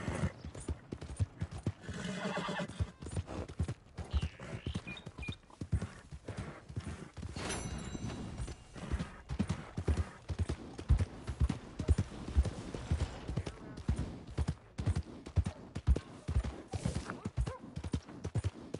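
A horse gallops in the video game Red Dead Redemption 2, its hooves pounding in a fast, steady clip-clop rhythm, close and continuous, with a brief whinny and faint creaks of tack.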